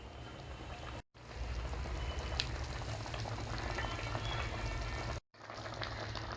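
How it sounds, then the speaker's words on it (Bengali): Fried bata fish simmering in a sour tamarind broth, a steady bubbling boil that runs continuously with two short breaks. "এখন আমি আরও 3 মিনিটের মতো ভালো করে ফুটিয়ে নেব।"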